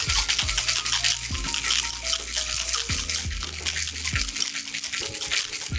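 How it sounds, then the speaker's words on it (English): Ice rattles rapidly in a cocktail shaker during a whip shake of a rum tiki drink, a dense continuous rattling close up with no talk. "nice little whip shake."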